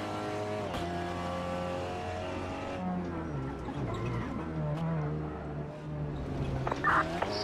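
Race car engine in a sim racing game at Laguna Seca, a steady loud droning whine rising and falling through gear changes, with a brief tire squeal near the end and a voice faintly underneath.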